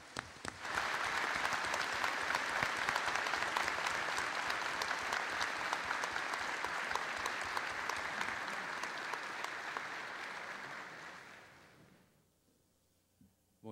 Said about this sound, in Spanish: eu gostaria de solicitar a todos uma salva de palmas para o Tássio